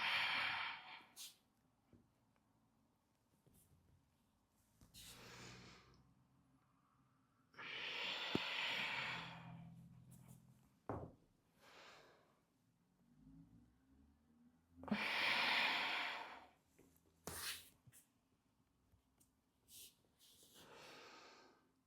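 Heavy, forceful exhalations from a person doing fundamental body movement exercises, several long breathy blasts at irregular intervals, loud and close, with quieter breaths and small movement noises between them.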